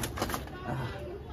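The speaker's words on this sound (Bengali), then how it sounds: "আমার এখানে আমার খুব পছন্দের দুইটা কবুতর আছে" Two pet pigeons, one a male raced last year, coo softly inside a cage, low murmuring calls running steadily beneath a busy indoor background with voices nearby.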